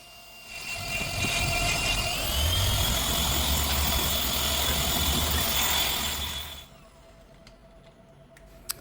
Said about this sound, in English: with the Max Shine 15mm polisher and the medium cut foam pad